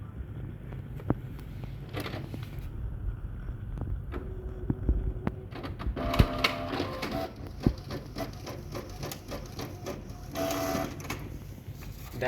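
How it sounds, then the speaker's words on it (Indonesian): A printer running a test page gives off a steady mechanical whir with scattered clicks and clunks as paper feeds through. It is fairly close and continues for the whole stretch with no talking. "kita langsung coba tes print"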